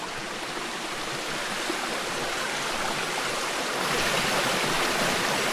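A strong mountain stream rushes and churns continuously, a dense, steady wash of flowing water close by that swells slightly louder toward the end, with no voices.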